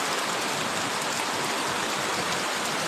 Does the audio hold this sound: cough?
no